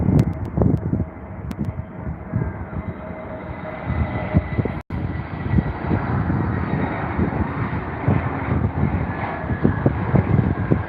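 Airbus A321 airliner taxiing onto runway 09 left at Heathrow, a steady broad jet-engine roar with wind buffeting the microphone, sustained and fairly close throughout.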